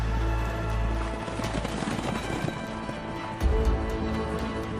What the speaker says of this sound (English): Heads shot up in unison, hooves pounded the ground, and dry dust swirled up, obscuring the space behind them.